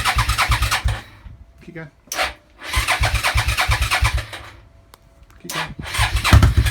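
A rejetted Suzuki SV650 motorcycle with empty carburettors cranks on choke in three long, rhythmic starter bursts separated by pauses, loud and close, while a voice urges it on between attempts.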